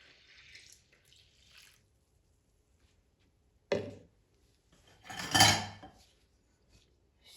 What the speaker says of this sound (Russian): нальем молоко с водой.